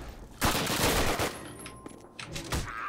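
Dense bursts of automatic gunfire in the Call of Duty video game, a loud rattling fusillade up close followed by a few scattered shots, without talk.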